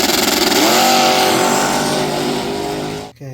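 An engine runs on an OEM carburetor rebuilt with a budget kit, loud and close, with a rising rev early on, then a steady drone before it abruptly cuts off.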